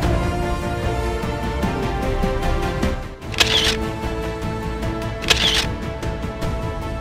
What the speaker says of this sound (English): He's using WalletBot's smart selfie button feature to click cool selfies.